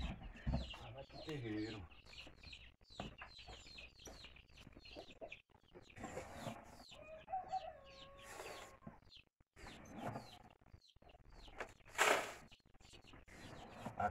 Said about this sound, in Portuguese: E as galinhas já estão acordadas.